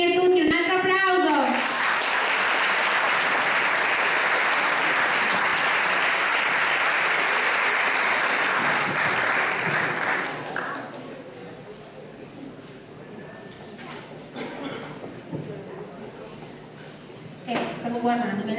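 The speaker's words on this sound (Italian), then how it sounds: "un altro applauso" Audience applause at a local song-and-dance festival, a dense sustained ovation lasting about ten seconds before fading into scattered claps, murmurs and children's voices.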